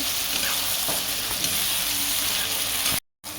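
Onion, tomato, green chilli and garlic sauté in a pan for methi bhaji, a steady close sizzle with faint scraping stirs, cutting out briefly near the end.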